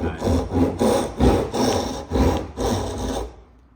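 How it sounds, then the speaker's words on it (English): A tenon saw cutting wood by hand, about seven steady rhythmic push-and-pull strokes rasping close up, then the sawing stops. "Use my tenon saw for that."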